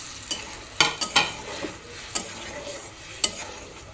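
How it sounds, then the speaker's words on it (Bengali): Eggs frying in a pan with tomato sauce, a low steady sizzle broken by several sharp scraping clicks of a utensil against the pan, close and fairly quiet with no voices. "এবার আমি ডিমগুলো অ্যাড করব।"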